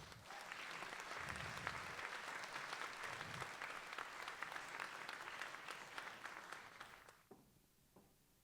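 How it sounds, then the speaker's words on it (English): Sustained, dense applause from a large audience, steady for several seconds before quickly dying away. "Please give them a warm round of applause."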